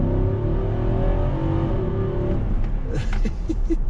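A 2021 Nissan Armada SUV's engine revs hard and roars as it accelerates from a standstill, close and loud, with a rising pitch before shifting.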